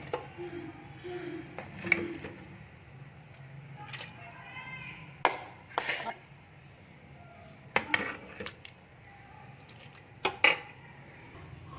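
Spoon scraping and clinking against a dish as chicken potato curry is served out, a series of sharp metallic taps and scrapes spread irregularly, fairly close, with quiet gaps between.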